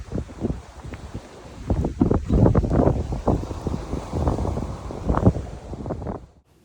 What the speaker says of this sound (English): If it was roped down better, it would have done a better job of handling this wind